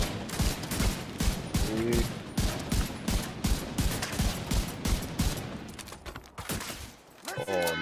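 Rapid rifle shots fired at an animal in a hunting video game, a dense volley of sharp cracks in quick succession with a voice speaking briefly between them, then a short lull and another shot at the end.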